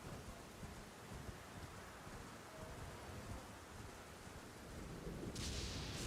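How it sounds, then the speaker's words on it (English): A thunderstorm in Elden Ring with the Reforged mod, steady faint rain hiss and low rumbling thunder that swells slightly toward the end, with no voices. "The normal thunderstorm."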